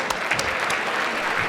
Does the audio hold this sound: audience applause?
yes